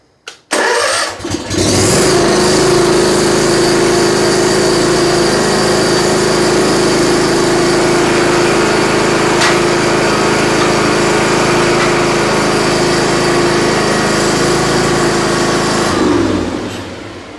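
A lawn mower fitted with a motorized chute blocker starts up with a brief pull and catch, then runs steadily at a loud, even engine drone for about fifteen seconds before cutting off.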